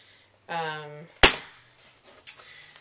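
A staple gun drives staples into a memo board as a craft project: a brief hum, then one loud, sharp snap with a quick decay, followed about a second later by a second, lighter snap.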